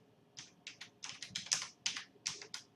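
Keys tapped on a computer keyboard in quick uneven bursts of clicks, fairly close and moderately quiet, with no talking over them.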